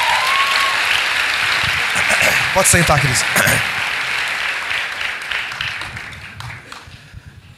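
A church congregation applauds steadily during a worship service, dense clapping that swells then slowly fades over several seconds while someone speaks briefly over it.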